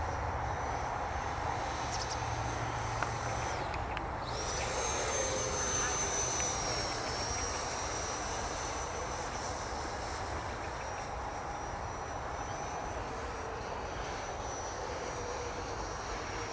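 Arrows Hobby Marlin RC model plane on its maiden flight, a steady, moderately distant whine of its electric motor running continuously over broadband outdoor noise, with a brief louder pass partway through.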